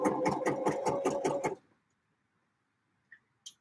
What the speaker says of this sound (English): bring your stitch length down, back stitch again, and then finish off the seam